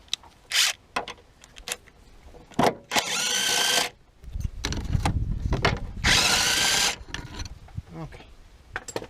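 A stronger impact gun hammers at stubborn bolts on a Nissan Qashqai J11 during a timing belt job, two long loud bursts of rattling torque separated by shorter clanks and workshop handling noise.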